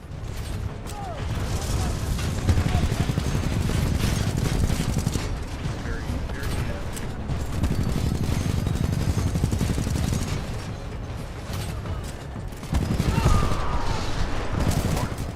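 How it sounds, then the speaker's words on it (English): Gunfire sprays at an animal in a video game, continuous rapid shots with mechanical clatter and booms, loud and dense for the whole stretch, with brief swells of heavier firing. "Shoot up the stupid animal with a gun."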